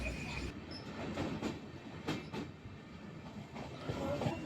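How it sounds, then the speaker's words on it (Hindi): A passenger train on the Barauni-to-New Delhi run arriving at New Delhi makes a steady rolling rumble with rhythmic wheel clatter and faint squealing tones, heard from inside the carriage. "और फिर इस तरह से हमारी ट्रेन पहुंच चुकी है न्यू दिल्ली"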